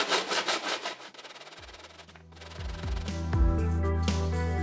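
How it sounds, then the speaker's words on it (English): A 3D-printed plastic bulldozer part is sanded by hand in quick rhythmic back-and-forth scrubbing strokes. A steady low hum and tonal background sound rise and take over partway through. "I usually sand the pieces before gluing it."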